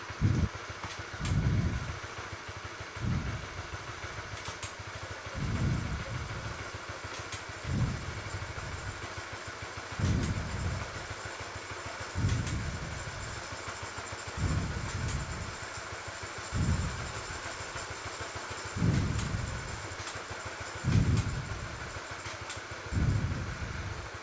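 A motorcycle engine idles steadily with a low, rhythmic pulse, surging in regular bursts roughly every two seconds as it runs in first gear on a stand, close by with no talk.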